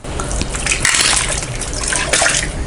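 Rice-rinse water poured into a clay pot while making ven pongal, a steady gushing splash that holds for nearly three seconds with brief surges, no voices over it.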